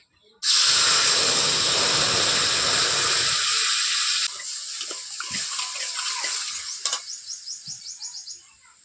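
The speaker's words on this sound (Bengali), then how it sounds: "কড়াতে অল্প একটু তেল দেব এবার দেবো তেঁতুল গুলানো জল" Tamarind water poured into a little hot oil in a kadai bursts into a loud, dense sizzling hiss. The hiss stays strong for several seconds, then drops and fades into softer, sputtering crackles.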